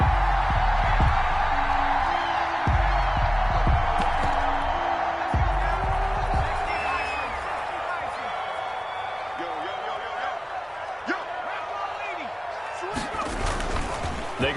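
An NFL stadium crowd cheers before a Cincinnati Bengals vs Carolina Panthers game, giving a broad steady roar with whoops and sharp thumps that eases slightly later on while a commentator talks throughout.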